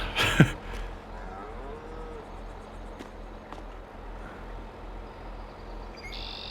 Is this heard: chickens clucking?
no